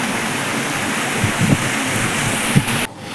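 A monsoon waterfall roars as a broad, steady rush of falling water, loud and continuous, with a few faint knocks before it cuts off near the end.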